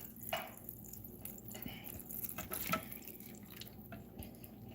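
Onion skin dye draining from a pan, faint scattered drips and small trickling splashes over a quiet background, with a few sharper drops spaced irregularly.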